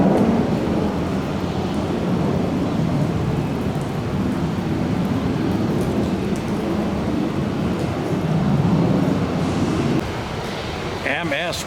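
A thunderstorm at an airport, with a continuous loud roar of heavy rain and rumbling thunder that holds steady for most of the stretch before easing near the end.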